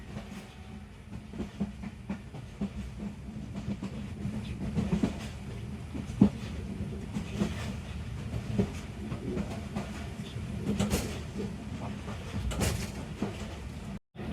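Inside a passenger train running on the Pakpattan–Kasur railway line in Pakistan, a steady low rumble of carriages with faint wheel clatter and occasional knocks continues throughout.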